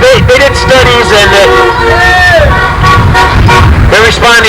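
Car horns honking at passing drivers on a roadside, several short toots and longer blasts overlapping one another up close, with street traffic and voices in the background.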